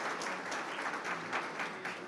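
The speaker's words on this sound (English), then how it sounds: "A round of applause for Sam." An audience at a producer forum gives a round of applause for chef Sam Burke, about two seconds of even, sustained clapping from a crowd.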